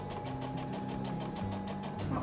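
A sewing machine runs during a clothing reform class where basic sewing machine use is taught, its fast, even stitching rhythm droning steadily and close by for the whole stretch.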